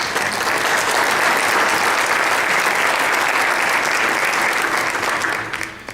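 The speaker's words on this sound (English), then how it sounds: "Ladies and gentlemen, I think you should give yourselves a round of applause for some excellent questions" Audience at a Frederick Community College candidate forum applauding themselves, a dense, steady roar of clapping at full strength throughout before tapering in the last moment.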